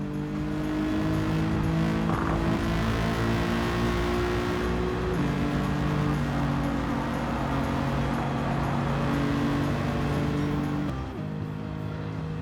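Race cars in Gran Turismo 7 during a WTC600 race at Tokyo hold a continuous loud engine drone with shifting gear pitches, steady throughout and alone, with no talk.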